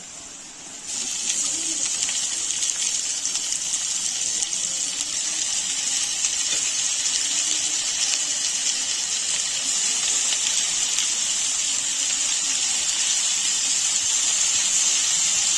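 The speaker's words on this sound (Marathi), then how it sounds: "आपला कांदा थोडा लालसर झालेला आहे त्याच्यामध्ये भारंग्याची भाजी म्हणजे भारग्याची भाजी टाकून घेऊया" Bharangi greens land in a pan of onion fried until reddish and sizzle hard, a bright hissing spatter that starts abruptly and holds steady and loud for the rest of the clip.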